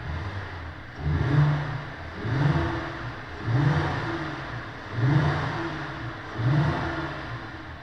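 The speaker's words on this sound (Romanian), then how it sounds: "Ia, cum sună un benzinar de 36." A 3.6-litre petrol car engine revs repeatedly, rising and falling in about five evenly spaced surges, loud and fairly close, with no talk over it.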